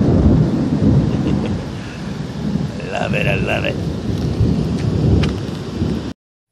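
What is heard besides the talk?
thunderstorm with thunder cracking and rain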